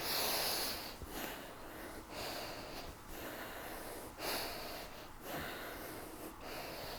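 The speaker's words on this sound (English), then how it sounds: "Bring the breath in." A deep breath drawn in during a guided exercise session, a soft, airy inhale with faint sniffing and rasping at the nose, quiet and close with no talking.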